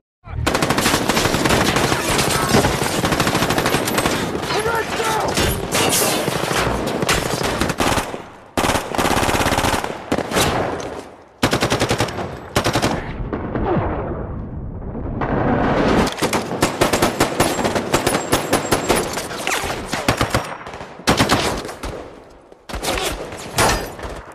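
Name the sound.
machine gun fire in a film shootout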